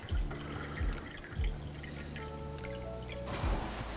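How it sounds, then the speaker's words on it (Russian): About 250 grams of Austrian wine is poured into a pot for Swiss fondue, making a soft, close trickle and splash with a few distinct drips. "Значит, 250 грамм австрийского вина."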